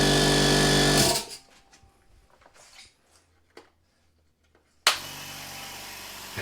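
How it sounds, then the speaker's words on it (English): A Hyundai twin-motor direct-drive electric welder hums loudly with a steady motor drone, cuts off abruptly, leaving near silence with faint clatter, then starts up loudly again. "I got this guy, Hyundai twin motor, direct drive, electric guy"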